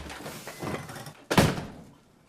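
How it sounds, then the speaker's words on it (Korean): A door is shut firmly by a woman at the front of a house, a single loud slam landing sharply after some quieter shuffling and movement, its thud ringing briefly before fading. "윤희는 매몰차게 문을 닫아버립니다"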